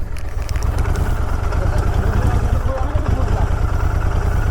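A motorcycle engine idles loudly and steadily up close during a bike tour, its low rumble running throughout while someone talks over it.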